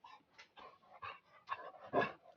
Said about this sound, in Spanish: Tengo un perro encima nuevamente